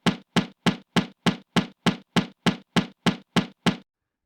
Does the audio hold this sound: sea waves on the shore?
no